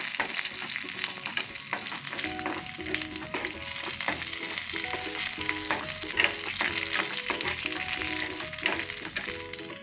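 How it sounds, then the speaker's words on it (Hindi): Ingredients frying in a pan for curd rice, a steady hiss with scattered stirring scrapes and taps lasting the whole stretch, sitting under gentle background music. "तो इसे फ्राई कर लीजिए।"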